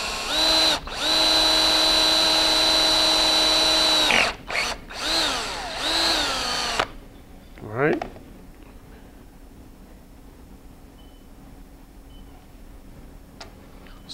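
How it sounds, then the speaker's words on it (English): A power drill whines at steady high speed for several seconds, stutters as it stops and restarts briefly, then falls silent apart from faint background noise. "You're going to need to apply a little bit of pressure to the drill."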